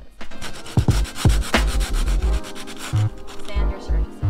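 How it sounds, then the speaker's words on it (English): Abrasive sanding of a fiberglass part and vent to rough the surface before glassing, heard as steady scratchy rubbing strokes with a few sharper bumps, close and fairly loud, with no talking. "also going to sand the vent and the actual part itself, so our fiberglass isn't lifting"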